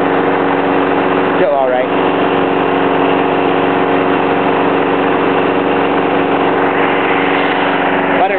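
A 4 hp lawn mower engine running on wood gas from a gasifier idles loud and close in a steady drone from start to finish, while someone speaks briefly over it.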